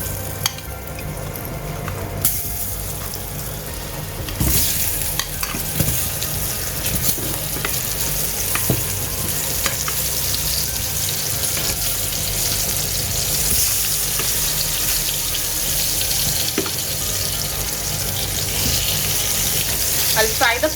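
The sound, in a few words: potatoes frying in a pan for Kolkata mutton biryani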